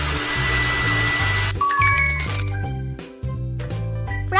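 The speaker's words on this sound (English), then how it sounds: "Now let's use a hair dryer." A cartoon hair dryer in a pony hair salon video game blows with a steady whooshing hum, joined by bright chimes and twinkling sparkle effects and a short break partway through.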